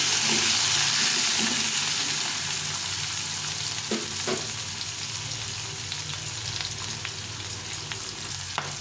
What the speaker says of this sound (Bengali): এই সবজিগুলোকে একটু ভেজে নেব